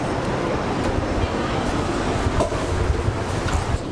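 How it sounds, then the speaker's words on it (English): A GO commuter train rumbles steadily and loudly, with rail noise filling the whole stretch and faint clacks and voices underneath. "get on the GO train, and find our way down to this Asian street food festival."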